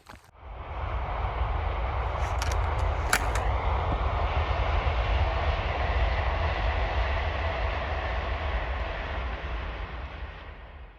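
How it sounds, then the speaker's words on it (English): A train passes on a rural line near St Cuthbert's Way between Wooler and Lindisfarne in England. A loud, steady rolling roar swells in quickly and holds before easing slightly at the end. "It was actually good to see the train go by."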